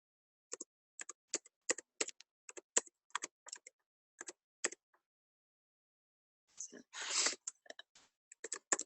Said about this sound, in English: I'm just typing in my